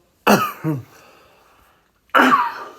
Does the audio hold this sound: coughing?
yes